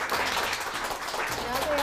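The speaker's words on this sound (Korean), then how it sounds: "이재호 교수님을 큰 박수로 자리에 모셔볼게요." A studio audience gives a brief round of applause welcoming a professor to the stage at a lecture show, a short burst of steady clapping, fairly close.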